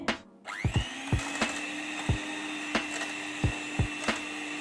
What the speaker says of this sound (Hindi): अगर आपके पास इलेक्ट्रिकल बीटर है तो इससे हम करेंगे।